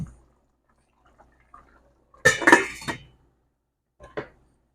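A lid clanks onto a pot of Cuban-style arroz con pollo, a short metallic clatter and rattle in a quiet kitchen, followed a moment later by a single softer clink.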